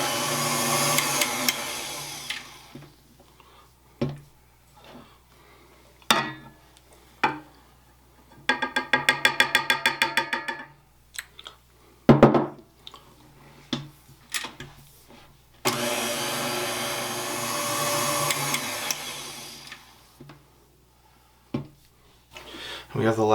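Electric hand mixer beating half a cup of skim milk into cupcake batter, running in loud sustained bursts with pauses and clattering between them, near and close to the bowl.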